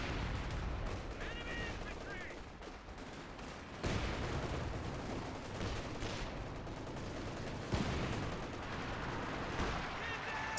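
Artillery barrage in a real-time strategy match, with distant booming impacts and scattered gunfire rattling under steady commentator talk, a few heavier thuds standing out.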